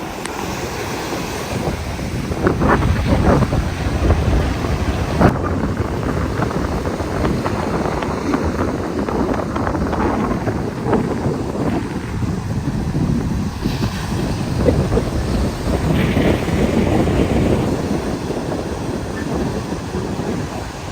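Strong surf rolls onto Dubai Sunset Beach under gusting wind that buffets the microphone, a continuous roar of breaking waves with no voices.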